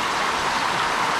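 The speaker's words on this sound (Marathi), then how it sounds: "तुफान पाऊस बघा" Heavy rain pours down in a steady, dense hiss with no breaks, loud and close throughout the short stretch.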